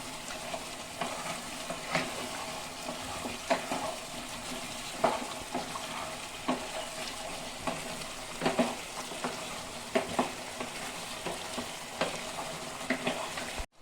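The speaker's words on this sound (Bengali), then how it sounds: "মাংস আর আলু সিদ্ধ হয়ে গেছে। এখন আমি ভালো করে কষিয়ে নেব।" Boiled mutton and potatoes are stir-fried in a pan for mutton kosha. A soft, low-level sizzle runs throughout, broken by repeated scraping stirs at a slow, irregular rhythm.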